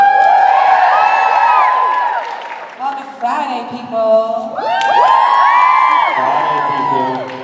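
A convention crowd in Chicago cheers and whoops loudly through most of the moment, with scattered shouts and applause, dipping briefly while someone speaks over the noise before the cheering swells again.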